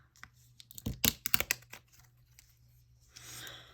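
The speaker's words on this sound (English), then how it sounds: "Let me just do a little snip there." Plastic packaging around a tarot deck is cut and pulled, a cluster of quick close snips and crackles followed by a softer rustle of wrapping, all fairly quiet.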